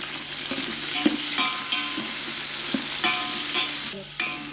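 Tomato, onion and green chilli frying with spices in a pan, a continuous sizzle broken by irregular scraping and clinking strokes as a spoon stirs the mixture close up.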